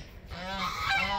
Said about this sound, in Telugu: ఏం బాతులు అండి ఇవి?